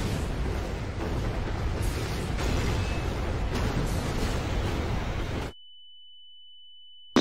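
Bombing in the video game Garry's Mod gives a dense, continuous roar of explosions and rumbling booms for about five seconds, then stops abruptly and leaves a thin steady tone.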